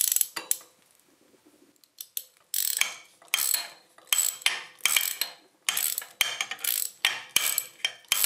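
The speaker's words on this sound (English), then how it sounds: "take the ratchet, connect it on the back, take our 18 millimeter" A ratchet wrench works on a bolt of a John Deere tractor, giving repeated bursts of sharp clicking in a steady back-and-forth rhythm, close up and with no talk.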